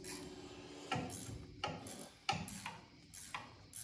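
A ratchet turns a bolt on the suspension of a Nova project car, giving a quiet clicking with several sharper clacks spaced out over a few seconds, close by and without talk.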